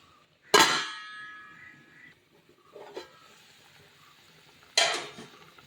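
A metal lid is set onto a pot of sardine curry, with a loud ringing clang followed by a lighter clink and a second sharp clang. The sounds are close, with quiet gaps between them and no voices.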